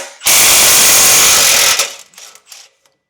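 An impact wrench loosens the exhaust studs on an 80 Series Land Cruiser during a catalytic converter swap, firing one loud, close, continuous hammering burst of about a second and a half, then a few short trailing clicks and rattles.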